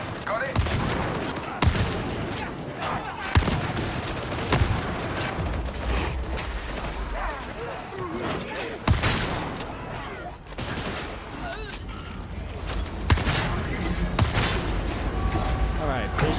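Shotgun gunfire in Warhammer 40k Darktide with the new Arbites class: repeated loud blasts every couple of seconds over dense battle noise, with voices talking throughout.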